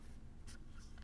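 Pencil writing a word on paper, a short scratchy stroke with a couple of brief scrapes, very faint and close against a low background hum.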